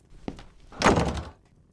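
A door slams shut with a sharp thunk after a brief knock, a single loud close impact followed by a short rumbling decay, with no talking.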